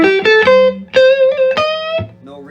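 Clean electric guitar played through a Fender 1966 Deluxe Reverb amp with volume on 4, treble on 3, bass on 10 and no reverb, picking a few sustained, bright single notes and a short chord, dry and close.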